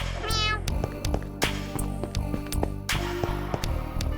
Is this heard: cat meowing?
yes